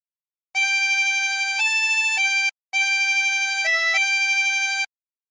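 A 16-hole tremolo harmonica plays two sustained reedy phrases of the hymn Nearer My God to Thee with a wavering tremolo, each holding a few steady notes before shifting pitch, separated by a short breath pause.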